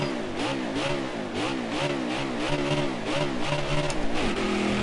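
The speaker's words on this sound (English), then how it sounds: "Just want to show you guys a little bit of the sound effect of the Xfinity car there real quick" Xfinity stock car engine in NASCAR Heat 4 at Atlanta, a loud, steady mid-pitched drone whose tone rises and falls in quick repeated surges as the throttle is worked, with no voices over it.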